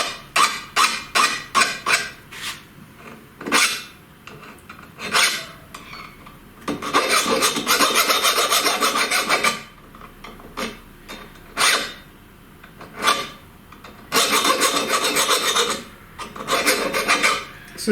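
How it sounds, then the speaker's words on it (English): A very hard metal file rasps across steel in bursts of quick back-and-forth strokes, some short and clipped, others sustained for several seconds, loud and close with pauses between. "a very hard, very good file."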